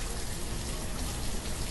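In the Banished city-building game, rain falls as a dense, even hiss of drops, loud and unbroken across the moment, with no voices.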